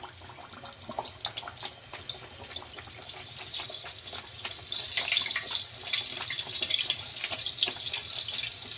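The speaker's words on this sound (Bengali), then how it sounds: "এখন আমি ডাল পুরিগুলো ভেজে নেব।" Bengali dal puri stuffed with cholar dal fry in hot oil, giving a close, dense crackling and bubbling sizzle that grows louder and thicker partway through, with no voices.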